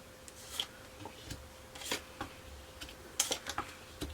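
Tarot cards laid out one by one in a quiet room, a series of light clicks and soft card slaps at irregular intervals, with a small flurry near the end.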